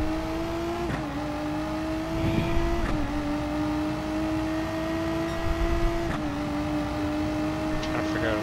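A rear-engine race car in Gran Turismo Sport drones at a steady high pitch under power, with brief dips at gear changes, loud and continuous under soft background chatter.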